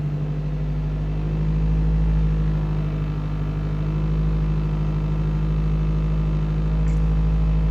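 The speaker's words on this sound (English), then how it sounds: "I'm going to go ahead and start the engine real quick for you guys" A Toyota Celica engine with a P0171 lean fault idling after starting, a steady low hum that holds level and close throughout, with no one talking.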